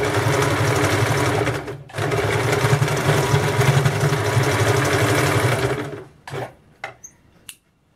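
Sewing machine stitching along a blouse edge, a steady whirring run with a brief pause early on, then stopping near the end, followed by a few short handling knocks.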